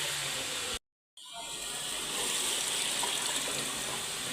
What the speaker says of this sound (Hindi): और इसके अंदर अब हम पानी ऐड कर देते हैं।